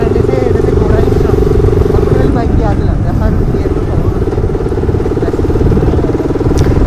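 Motorcycle engine running steadily up close under continuous loud talk, its tone rising slightly as the throttle is revved, with some road and wind noise.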